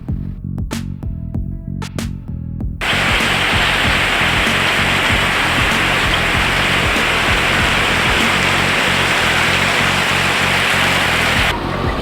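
Heavy rain pours steadily on a road during a motorbike ride, a dense loud roar that swells in after a few seconds and holds without break.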